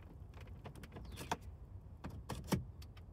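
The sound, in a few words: clicking when car key is inserted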